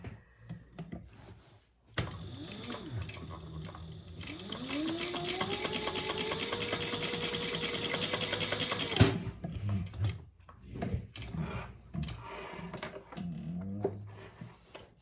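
A sewing machine topstitches straps, running in a steady, fast, whirring hum with a rising motor pitch for about seven seconds before stopping, bracketed by small clicks and handling sounds.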